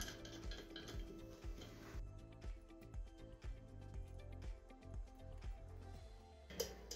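Metal screws being tightened to mount an IA motion pneumatic actuator onto a valve, heard as a steady run of small metallic clicks, clinks and taps, close and moderately loud, with no voices.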